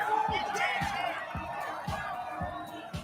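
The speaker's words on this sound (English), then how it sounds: "The crowd is looking for some buckets." A basketball crowd cheers and whoops loudly and steadily throughout, with a regular low thumping beat underneath.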